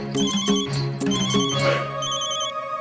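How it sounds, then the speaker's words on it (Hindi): A telephone rings with a repeated melodic electronic ringtone, a steady sequence of bright chiming tones continuing throughout, loud and close with no talk. "हमारी धर्मपत्नी का फोन है, राधा रानी।"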